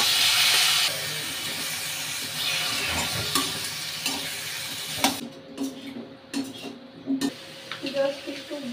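Parathas frying in a pan for a breakfast spread, a steady soft sizzle with occasional scrapes and clinks of a spatula, close and moderately loud, fading into quieter hissing with small taps partway through.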